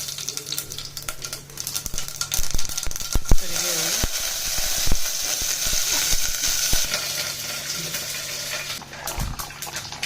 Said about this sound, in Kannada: ಇದಕ್ಕೀಗ ಸಣ್ಣದಾಗಿ ಒಗ್ಗರಣೆ ಕೊಡೋಣ.